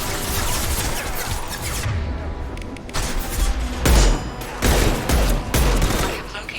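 Rapid gunfire from the video game Mass Effect 2, dense sustained volleys of bursts that swell and fade over several seconds, with no speech over them.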